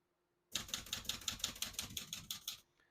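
Typing on a 1975 Olivetti Lettera 32 portable typewriter, a steady run of about a dozen crisp, evenly spaced key strikes lasting two seconds, close and loud, with nobody talking.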